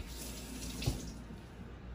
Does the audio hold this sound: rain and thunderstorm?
no